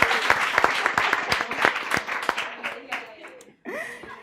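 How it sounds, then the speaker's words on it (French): Applause from an audience during a team quiz contest: dense, lively clapping for several seconds, a short pause, then a voice and some chuckling near the end. "on doit l'applaudir encore plus fort."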